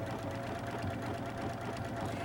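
A home sewing machine stitches quilt fabric with the Starmaker 5 tool in one steady, dense run of whirring motor noise and rapid needle chatter, close and fairly loud, with no pauses.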